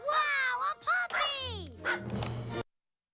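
A puppy yips and whimpers in a short burst of high, bouncy barks from a Toy Story game cutscene, heard close and clear before falling silent.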